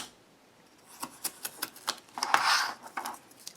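Scissors snip a row of quick, crisp cuts through paper leaves for a fabric and cardboard flower craft, the cuts close and fairly quiet, ending in a longer rustling cut.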